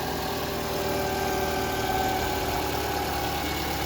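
Engine of a 2013 Toyota Camry idling after a starter replacement, a steady close hum with an even low rumble and no change in pace.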